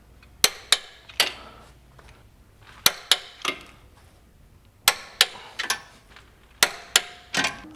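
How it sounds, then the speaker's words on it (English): A torque wrench clicking while tightening the subframe bolts on a 2001-2006 BMW E46 M3 with an S54 engine: groups of two or three sharp metallic clicks repeated several times, close and clear, with quiet gaps between. "we're going to go ahead and torque the subframe bolts and then the steering shaft bolt"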